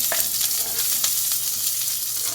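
Mustard seeds, chana dal and onion fry in hot oil, giving a steady close crackling sizzle with small pops and spits throughout, no voices.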